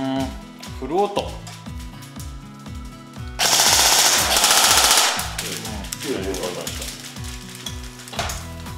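Rapid mechanical clicking bursts of a KSC QRF mod.1 electric airsoft gun firing on full auto, close and loud, with a longer sustained burst midway and a voice talking intermittently.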